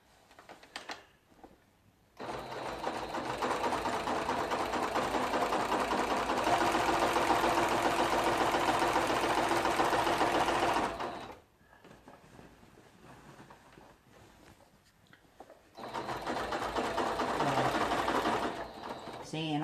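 Sewing machine stitching a thick quilt-as-you-go border, a loud rapid mechanical whir in two long runs separated by a short pause, with a quiet voice heard during the gaps.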